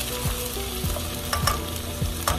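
Onions and tomatoes sautéing in a pan give a continuous close sizzle, with a spatula scraping and stirring in a regular rhythm and a few light clinks.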